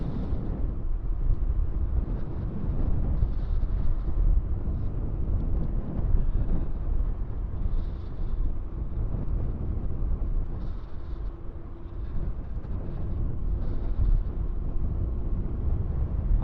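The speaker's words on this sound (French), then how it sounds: "on a un gros vent de face gelé" Steady, heavy cold headwind roaring across the microphone during an electric mountain bike ride, a constant low rumble with gusty buffeting throughout and no speech.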